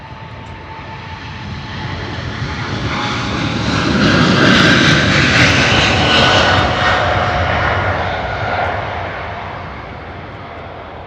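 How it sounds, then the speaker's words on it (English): Singapore Airlines Cargo Boeing 747 passing at Heathrow, its engine roar swelling to a loud peak midway and then fading, heard alone without talk. "Pretty amazing seeing the Singapore Airlines Cargo 747."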